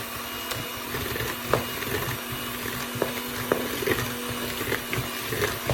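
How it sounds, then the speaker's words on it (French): An electric whisk beats mascarpone cream with powdered sugar in a bowl, giving a steady, whirring motor drone with small knocks of the beaters against the bowl, running continuously at moderate volume. "On va fouetter ça jusqu'à ce qu'il soit bien ferme et"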